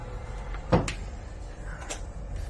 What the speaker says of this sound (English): The flap folds down.